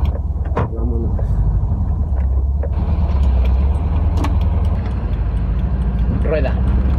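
A Volkswagen combi van's engine runs steadily as the van gets moving, a continuous low drone close by with a few clicks and knocks, while someone talks over it.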